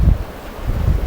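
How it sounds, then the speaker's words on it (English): Wind buffets a phone microphone at the beach, producing loud low rumbling gusts in two bursts over about a second, with no speech. "Oh, a bit of wind there."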